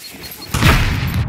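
Gunfire in the survival game Scum comes as a sudden loud burst of close shots after a quiet, low stretch, then trails off into a rumbling tail over the last half second.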